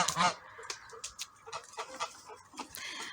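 Several geese honking and clucking nearby in short, uneven bursts, with quiet gaps between calls.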